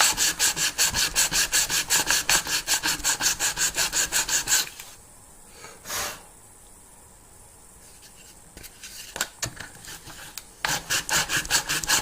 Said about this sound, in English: This is the hardest part of the whole thing, is all the sanding to get a good fit on your box.